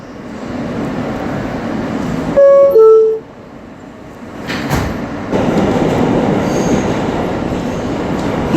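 An R160 New York City subway car on the Queens-bound G line rumbles along the rails with a loud continuous roar, a brief electronic chime, a short quieter stretch, then the rumble building again.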